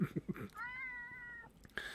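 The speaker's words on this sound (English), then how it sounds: "the cat just meowed in the microphone" A house cat meows once into a nearby microphone, a clear drawn-out cry following a few quick soft sounds at the start, with a brief faint noise after.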